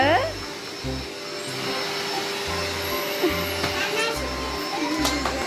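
A household electric vacuum cleaner switched on and running steadily at close range, with a child and an adult talking over its continuous hum.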